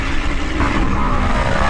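A blue racing buggy engine roars at the Antoing Cross Festival 2015 autocross final, loud and continuous at close range as it drives past.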